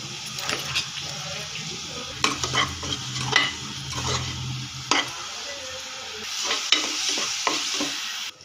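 Onions sizzle in a pan for a spicy crab curry, with repeated scraping stirs of a utensil against the pan over a steady frying hiss, close by.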